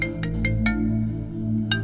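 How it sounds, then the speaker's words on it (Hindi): An incoming call's ringtone chimes from a mobile phone, a short series of bright repeating tones over a low sustained background, fairly quiet and with nobody speaking. "ये परियों की कहानियों में से प्रिंस चार्मिंग का फोन आ रहा है।"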